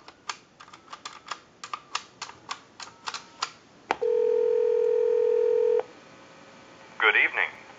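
A quick run of clicks, then a steady telephone dial tone for about two seconds, followed by a short burst of DTMF dialing tones, from a Mickey Mouse model telephone.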